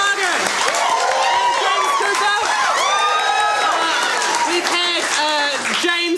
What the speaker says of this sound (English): Let's have a huge round of applause for Tom Eason, Krystal Gorman